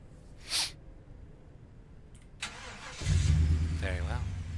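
A car engine in the horror video game Obsideo rumbles to life after a quiet stretch with a brief sneeze-like burst, then settles into a loud, steady low drone.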